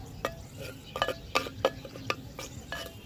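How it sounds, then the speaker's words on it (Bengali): Garlic frying in a hot clay pot over a wood fire, with a faint sizzle under several sharp, irregular scrapes and clinks of a utensil against the pot, close by with no talk. "এটা মাটির হাড়ি গরম হয়ে গেছে হ্যাঁ রসুনটা একটুখানি ভাজতে হবে"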